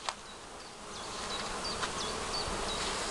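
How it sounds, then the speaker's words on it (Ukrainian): Honeybees buzz at an apiary among blossoming trees in a soft, continuous outdoor hum, while a bird chirps repeatedly nearby and no one speaks. "І бджілки працюють."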